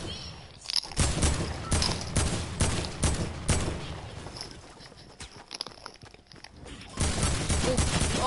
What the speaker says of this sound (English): someone's shooting you, Katie.